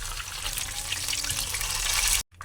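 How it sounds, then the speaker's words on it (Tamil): Masala-marinated chicken for chicken 65 fries in hot oil with a dense, loud, continuous sizzle and crackle that cuts off abruptly near the end. "இப்போ மசாலாவில் ஊற வச்ச சிக்கனை பொரிச்சு எடுத்துக்கலாம்."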